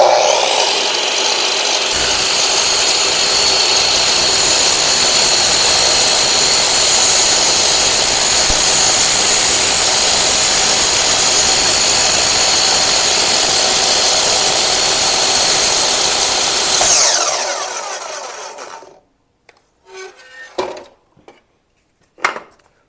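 A power saw cuts a bevel through wood, a loud continuous whining rasp running steadily for about fifteen seconds before spinning down, followed by a few scattered knocks and handling sounds.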